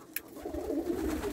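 Racing pigeons coo softly in a loft, low throaty murmurs rising and falling at a quiet distance.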